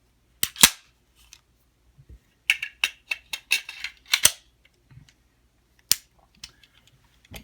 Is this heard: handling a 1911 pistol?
yes